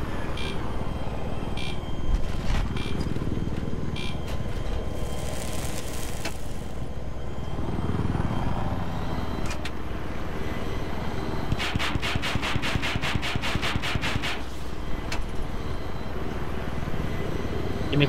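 Helicopter rotor thumping and engine whine amid game-style gunfire and rapid mechanical bursts in Battlefield 3 on Kharg Island, continuous and fairly loud throughout.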